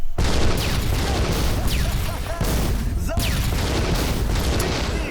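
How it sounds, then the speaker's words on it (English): Loud, dense video game explosions from Nehrim boom and blast continuously, with sharp cracks and whooshing sweeps breaking through the rumble of an ongoing barrage. "Oh, how glorious. The glorious explosions."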